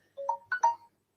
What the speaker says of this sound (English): that is the alarm going off because I put a timer on